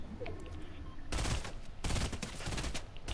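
Rapid bursts of gunfire from a Fortnite match rattle out in two dense volleys after a quieter start, loud and sustained, like automatic weapons firing in quick succession.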